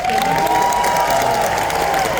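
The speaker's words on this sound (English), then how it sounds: "You guys are so kind to clap for me." An audience at a film Q&A with George Clooney applauds and cheers in a dense, continuous wash of clapping, loud and sustained from start to finish, with a faint tonal whistle or voice riding on top.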